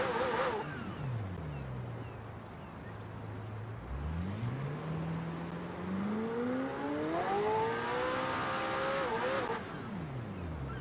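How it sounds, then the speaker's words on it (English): A McLaren Senna's engine revs in Forza Horizon 4, one car rising and falling in pitch through several sweeping revs, loud and alone with no talk over it. "don't you just love the sound of a McLaren Senna's engine?"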